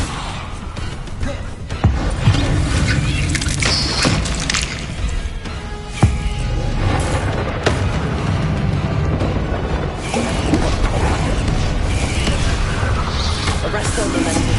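Spell casts and explosions in Hogwarts Legacy: a dense, continuous barrage of loud bursts, crashes and sharp impacts, with repeated hits spaced a few seconds apart over a busy game soundscape.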